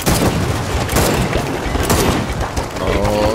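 Dense bursts of gunfire from the video game Gears of War 4 crackle loudly and nearly continuously with booming impacts, overlapping with excited voices.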